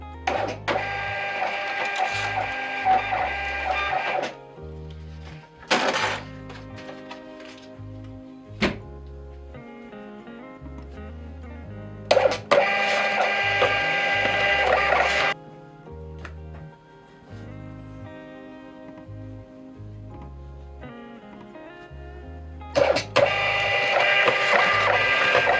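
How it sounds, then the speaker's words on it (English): A label printer turns out shipping labels in loud mechanical bursts, each a rattling, whirring run of several seconds broken by pauses and occasional thunks as labels feed out. "it's just me printing out the rest of the labels"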